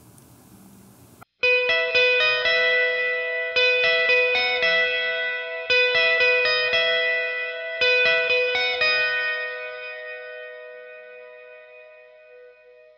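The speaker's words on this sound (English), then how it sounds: "they put a ton of reverb on it and it makes it sound absolutely beautiful" An electric guitar plays a bright repeating picked lead line through heavy reverb, each note blooming into a wide wash, close and loud, ending on a long sustained note that decays slowly into a shimmering tail.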